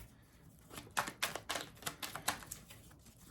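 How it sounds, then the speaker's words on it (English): A tarot card deck is shuffled close by in a quick run of crisp, clicking riffles. The cards patter in an uneven burst that is fairly quiet, with no talk over it. "As I shuffle the deck upside down."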